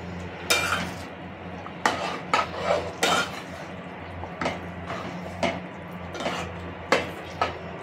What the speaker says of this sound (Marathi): आता हे फ्राय करून घेतलेली भेंडी टाकून घेऊयात आपण